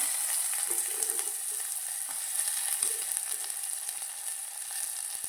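Garlic and onion frying in oil in a home kitchen, an even, continuous sizzle with occasional soft stirring clicks, heard alone without talk.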